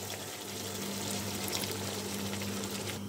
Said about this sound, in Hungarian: Még öntök rá egy kis vizet, hogy tudjon főni a porc és a gerzsli.